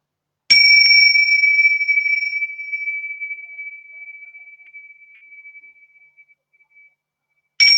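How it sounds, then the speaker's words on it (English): A bell is struck once to open a gathering, ringing out clearly and then fading in a long, slowly dying tone over several seconds before a second strike begins at the very end. "So just ringing this bell, bringing us into presence and opening this container."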